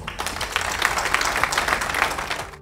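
Warm applause fills a reception honoring a women's handball team, a dense burst of clapping from a crowd that holds steady for a couple of seconds before cutting off.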